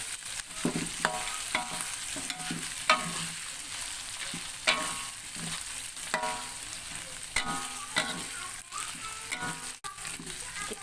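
Jengkol is stir-fried in a pan, Betawi style. A spatula scrapes and tosses it in repeated rhythmic strokes over a steady, fairly quiet sizzle.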